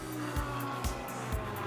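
Race cars at the Kyalami 9 Hour endurance race sweep through the esses and charge uphill, a steady loud engine roar with three rhythmic low pulses as cars pass close by.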